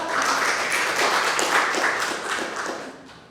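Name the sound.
audience applause welcoming a speaker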